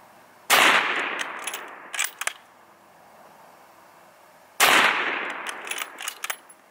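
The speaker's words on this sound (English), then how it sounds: "So now we're gonna hit the hay bale with the 223 using some Federal 55 grain FMJ." Two loud, sharp .223 rifle shots fired into a hay bale with Federal 55 grain FMJ rounds, about four seconds apart, each followed by a brief rattling tail, outdoors with no talk.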